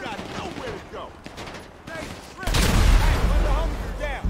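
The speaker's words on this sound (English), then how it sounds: "Who's shooting me?" Video game gunfire erupts in a loud, close burst of rapid shots that follows a quieter stretch with scattered sounds.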